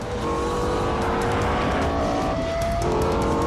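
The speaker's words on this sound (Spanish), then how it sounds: "agresivo, ruidoso, ágil. El motor V10 más revolucionario en la producción de un coche." A Lexus V10 sports car engine roars loudly and continuously for a few seconds, with sustained revving tones that shift in pitch and no voices.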